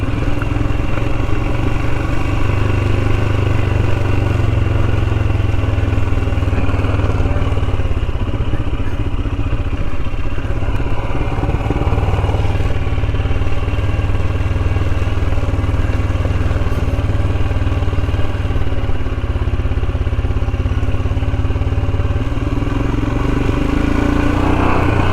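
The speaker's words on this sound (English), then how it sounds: "this Himalayan's a great bike. I'll tell you what. Yeah, it's a bit noisy, it's a bit clattery and bangy" Royal Enfield Himalayan motorcycle ridden on the road, its engine a loud, continuous, clattery and bangy thrum with steady wind roar, running unbroken throughout.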